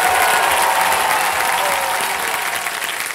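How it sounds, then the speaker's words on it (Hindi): Loud, sustained applause from a game-show studio audience on Kaun Banega Crorepati, dense clapping that fills the clip on its own and eases slightly toward the end. "एक बार फिर जोरदार तालियां हो जाए हमारे सभी खिलाड़ियों के लिए।"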